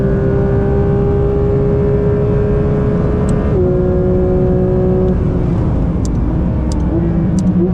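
A Porsche 992 GT3 RS engine revving up to 9000 rpm on track, a loud, sustained high-pitched wail that climbs and holds, dips with a gear change, then rises again under steady cabin roar.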